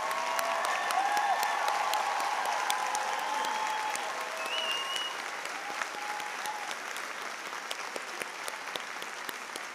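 Graduation crowd at a spring college commencement ceremony applauding the new graduates, a broad wash of many hands clapping, loud at first then easing slightly while individual sharp claps stand out over roughly ten seconds.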